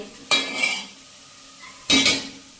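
A spoon stirring rasam in a metal pot, two separate scraping, clinking strokes close by, each with a soft sizzle under it.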